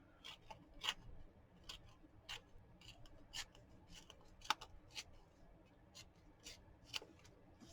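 Sheet of paper torn against a straight edge while making an altered envelope for a journal, heard as a series of short, close, crisp rips and scratchy tearing bursts spread over several seconds, with no talking.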